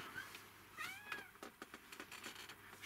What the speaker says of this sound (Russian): хорошая, хорошая кошка